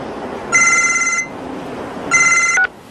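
A telephone rings loudly in two electronic bell bursts, each under a second long and separated by a short pause.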